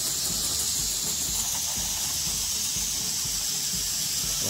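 A hose sprays water to rinse an RV roof, giving a steady, loud, hissing spray that holds unbroken and close throughout.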